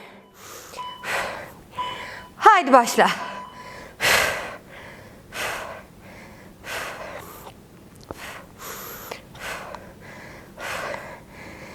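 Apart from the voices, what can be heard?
heavy breathing during HIIT cardio exercise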